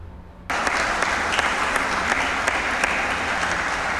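A crowd bursts into sustained clapping after a brief quiet moment, the applause starting abruptly and staying dense and loud until the end, as though in a large assembly hall during a presidential annual address.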